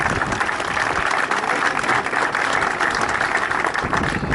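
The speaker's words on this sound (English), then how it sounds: "I'd like you to give a round of applause to the underage coaches" Loud, sustained applause from a crowd gathered at a football club's clubhouse and pitch opening in Westport, honouring the underage coaches; dense, continuous clapping close by, with no voices over it.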